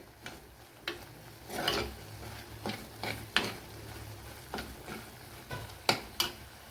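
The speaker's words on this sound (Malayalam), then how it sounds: "അപ്പോഴിത് നല്ലതുപോലെ വഴറ്റിയെടുക്കണം." Masala paste for a coconut-free fish curry sautés in a pan, with a soft background sizzle broken by repeated sharp spoon scrapes and taps at an irregular rhythm.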